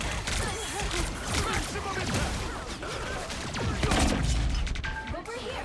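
Enemies firing at the player in a video game, with a busy stream of rapid shots and impacts that overlaps lively game noise and faint talk.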